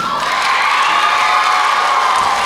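Audience at a primary school leaving ceremony applauds the grade 6 teachers, a steady, dense wash of clapping with cheering and children's shouts throughout, loud and close.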